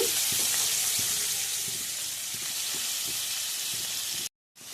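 Prawns frying in oil with turmeric and chili powder over a medium flame for prawn biryani, giving a steady, close sizzle with faint stirring taps, cut briefly silent near the end.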